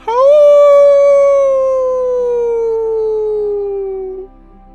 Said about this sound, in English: a howl that rips into your core, a sound that sends shivers down your spine